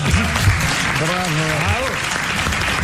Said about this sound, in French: je voudrais vous demander d'applaudir notre pianiste qui a joué faux